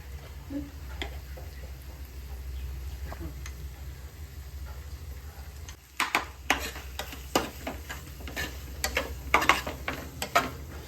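A spoon stirring turmeric and masala into fish frying in a pan, soft sizzle running underneath, then a burst of quick scraping clinks against the pan midway, close and moderately loud.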